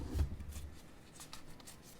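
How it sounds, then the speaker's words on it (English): Tarot cards are shuffled by hand up close, a steady soft papery riffling and sliding with brief crisp flicks, fairly quiet and with no talk over it. "I was going to try to shuffle them again on camera for you to see"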